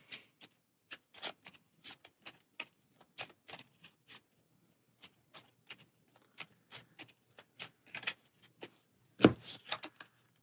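Cards for the Aeons End card game are shuffled during solo play. Crisp, irregular clicks and snaps come in uneven bursts, close and fairly quiet, with one louder slap near the end and no talking.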